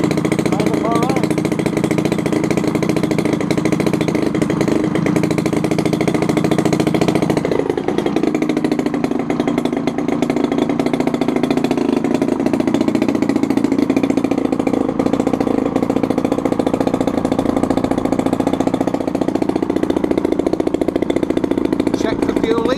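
A DLE35RA gas engine fitted to a Hanger 9 Beaver model plane runs steadily and loudly throughout, its buzzing drone shifting to a slightly different pitch partway through, with people talking over it.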